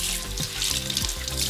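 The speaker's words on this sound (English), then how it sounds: "So now I'm just gonna go ahead and rinse the fish." Tap water runs steadily over raw fish being rinsed in a kitchen sink, a close, continuous splashing hiss with small changes in the flow as the fish is turned.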